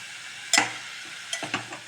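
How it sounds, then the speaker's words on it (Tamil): Vegetables for broccoli biryani sautéed over high flame, with a few sharp stirring scrapes and bursts of sizzle in the pan, close and moderately loud, no talking. "நல்லா கொஞ்சம் இது ஹை ஃப்ளேமில் பண்ணி ஒரு 2 நிமிஷம் வதக்கிடலாம்."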